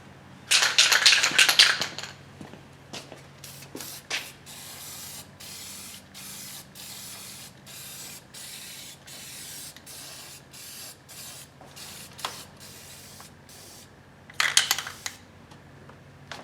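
Spray paint hisses out of an aerosol can in short bursts while a coat is applied, a loud blast at the start and another near the end, with quieter spurts and rattles between.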